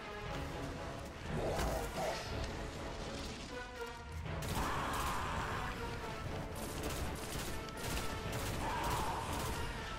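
Sustained gunfire from the video game Destiny: The Taken King, rapid volleys and crashing impacts in a continuous loud barrage with bright energy bursts throughout.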